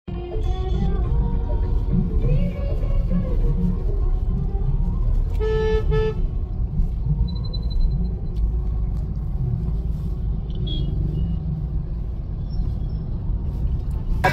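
Heavy city road traffic in Bibwewadi, Pune, with a steady, close engine rumble and one clear horn blast in the middle, plus a few fainter distant toots.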